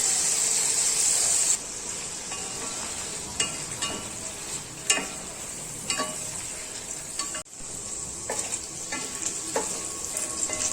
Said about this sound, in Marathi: पॅन गरम झालाय त्यात मी तेल टाकते त्यासोबतच एक चमचा बटर टाकते आणि त्यात आता मी पनीर फ्राय करून घेते